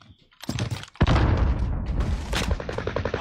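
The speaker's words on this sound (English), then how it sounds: "I'm under fire." Bursts of automatic gunfire ring out in a Warzone battle royale match, rapid cracking shots in clusters over a few seconds, fairly close and sharp, with no talking.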